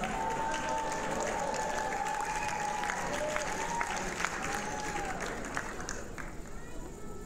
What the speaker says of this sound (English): Let's give a warm applause